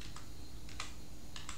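A computer keyboard is typed on in short clusters of crisp clicks, three or four bursts of keystrokes, close and clear over a steady low background hum.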